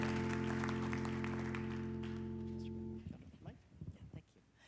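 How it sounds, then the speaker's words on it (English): Church congregation claps and cheers at an anniversary service, the applause rising after a sustained organ or keyboard chord fades, loose and moderately loud. "Let's give Pastor Boykin, Pastor Beth another big round of applause."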